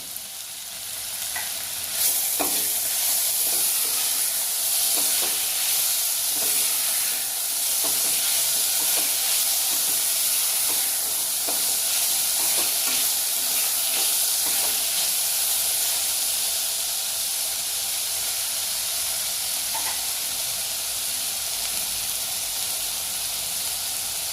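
Beetroot sautéing in a pan while cooking beetroot rice, with a steady, loud sizzle and frying hiss throughout, broken by occasional crackles and stirring scrapes; no talking.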